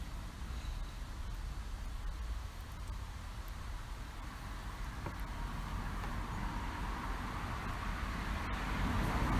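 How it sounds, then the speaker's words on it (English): Road traffic passes behind a park bench outdoors, a continuous low rumble of cars with a slow swell toward the end, fairly distant and steady, with no voices. "you can hear that there are cars behind us"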